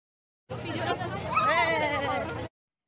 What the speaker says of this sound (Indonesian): Merino sheep.